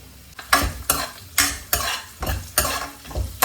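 Chopped onion and curry leaves frying for tomato rasam, stirred in rhythmic strokes, each pass bringing a loud burst of sizzle and scraping roughly every half second, close up with no speech.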